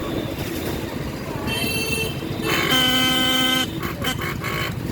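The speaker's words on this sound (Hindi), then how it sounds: "इस समय हॉर्न भी मेरा ख़राब हो गया है, अजीब टाइप का आवाज़ आ रहा है इसका" A faulty motorcycle horn sounds twice with an odd, strained buzzing tone, the second blast longer, over engine rumble and road noise.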